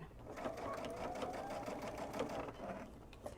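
A sewing machine stitches a child's mood pillow, a steady close mechanical whir with a fast rhythmic chatter running throughout, with faint talk underneath.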